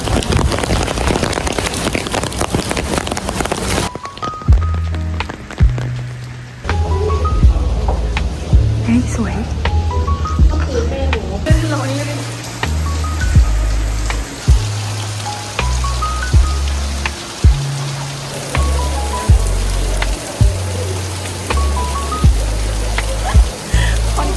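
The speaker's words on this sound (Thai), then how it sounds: "แล้วฝนเม็ดใหญ่มาตก" Heavy rain with large drops falls in Bangkok as a steady, dense hiss, loud at first and then continuing beneath rhythmic background music and some talking.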